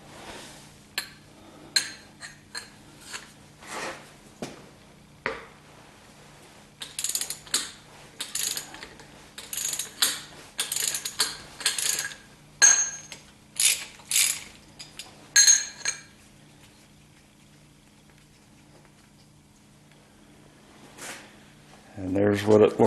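A ratchet turning a 15/16 socket on an intake manifold bolt of a 1976 Corvette, clicking in several close bursts of rapid pawl ticks separated by pauses, with a brief voice near the end.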